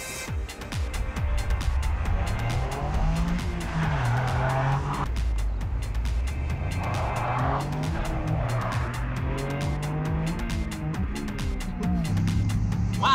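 Onboard a race car driven fast around a circuit: the engine revs hard and rises through the gears in repeated loud surges, with tire squeal through the corners.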